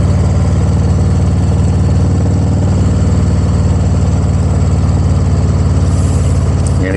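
Motorcycle engine and road noise heard while riding: a steady, loud low engine drone with a constant rumble of wind and road beneath it, unbroken from start to finish.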